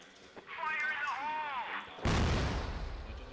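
Sudden loud grenade blast in a competitive first-person shooter grand final, a sharp burst that follows a moment of excited commentator speech, then trails off into a rumbling decay.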